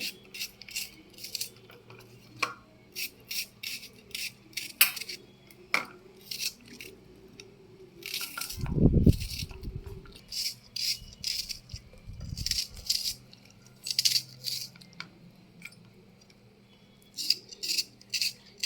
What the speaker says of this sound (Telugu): ఆనియన్ కూడా పొడుగ్గా వద్దు, ఇలా సన్నగా కట్ చేసుకోండి